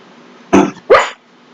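A pet dog asleep and dreaming gives two short, muffled barks close by, about a third of a second apart, over a faint steady hum.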